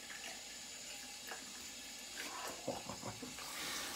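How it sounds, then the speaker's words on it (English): Tap water runs into a sink while a vintage Heinr. Böker Edelweiss knife is rinsed, a faint, steady stream with a few soft splashes and clinks near the middle. "I'm gonna do a bit of rinsing and see what it feels like."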